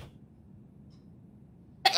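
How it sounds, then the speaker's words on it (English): A person sneezes once, a sudden loud burst right at the end after a stretch of quiet low background hum. "I gotta sneeze."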